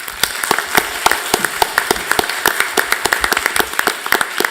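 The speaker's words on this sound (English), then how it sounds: "Let's give him a round of applause" An audience at a school board meeting claps in a brisk, scattered patter of individual hand claps, fairly close and lively, with no talking.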